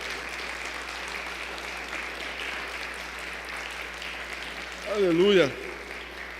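Church congregation applauding steadily throughout, a dense continuous patter of clapping, with a voice briefly calling out over it near the end.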